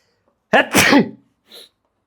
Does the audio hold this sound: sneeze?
yes